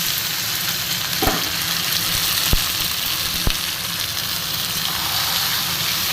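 Spiced marinated chicken sizzles in a pan with fried onion and garlic, a loud, even frying hiss throughout, broken by a few sharp utensil clicks and no voices.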